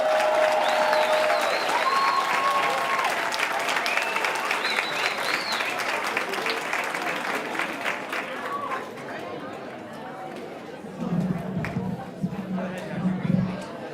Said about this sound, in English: The class of 2030 a round of applause.